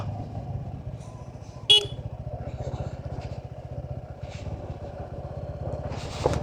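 Motorcycle engine droning steadily on a rough mountain road returning from Ghalegaun, Nepal, with a brief sharp horn toot early on and other traffic rumble throughout.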